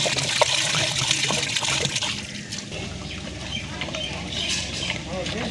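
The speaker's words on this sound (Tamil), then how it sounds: "2 கேன் தண்ணி ஊற்றுறோம்." Two cans of water poured into a pot of chicken biryani, a steady broadband splashing and trickling that runs throughout, fairly close, with a voice talking over it.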